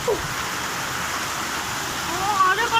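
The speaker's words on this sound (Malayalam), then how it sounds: "ഇതുണ്ടോ വെള്ളം ഭയങ്കര മഴയാന്ന് പറഞ്ഞാൽ ഭയങ്കര മഴയാ" Heavy rain and floodwater rushing behind a house, a continuous broad hiss and roar of pouring water, fairly close and steady, with a voice speaking briefly over it.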